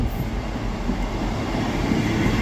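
A GWR Class 159 diesel train at Axminster rumbles steadily with a dense low drone and rattling wheel noise, heard from on board, constant and fairly loud without talk.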